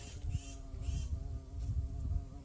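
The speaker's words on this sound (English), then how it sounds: "The little fuzzy bee. And they're doing his thing, getting some pollen" Soft, steady buzzing of a fuzzy bee gathering pollen among garden flowers, heard close and fairly faint, with slight wingbeat fluctuations and no talking.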